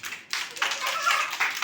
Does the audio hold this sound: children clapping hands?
yes